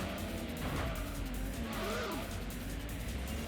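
Tyres screeching as a car spins out in the Gran Turismo racing game, a continuous loud wash of engine and road noise with a rising and falling squeal near the middle.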